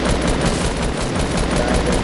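Rapid, sustained gunfire from a Fortnite match, dense and loud throughout with continuous bursts and no voices over it.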